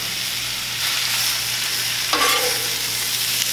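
Thinly sliced ribeye or sirloin beef hitting a hot Blackstone griddle, a loud continuous close sizzle that swells as the meat goes down, with a brief scrape near the end and no talk.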